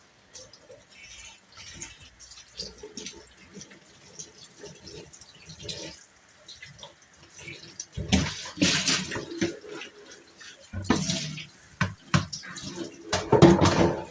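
Running tap water while something is washed and cleaned, faint trickling and drips at first, then louder gushing splashes in bursts toward the end, close by with no talking.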